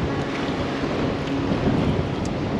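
Strong gusting wind buffets a microphone on open water beside mangroves near a boat ramp off Highway 48, a steady loud roar with wave wash and no voices.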